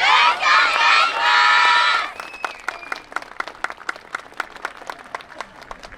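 A festival crowd at a dance performance roars with loud shouts and cheers, then breaks into scattered rhythmic clapping as the cheering dies away.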